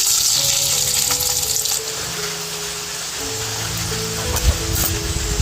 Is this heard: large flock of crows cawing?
no